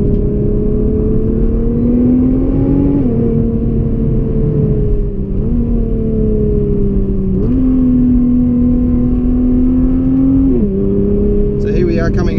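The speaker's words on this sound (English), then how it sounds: "There's no denying the engine's performance though," A 2017 Nissan GT-R engine on the Great Ocean Road drones loudly from inside the cabin, revving up through the gears in several rising pulls broken by brief shift dips, with a voice talking over it.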